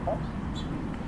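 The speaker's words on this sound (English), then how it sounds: "And there are the 4 female turkeys." Wild female turkeys clucking outdoors, with a single short cluck close by and a faint higher chirp over steady low background noise.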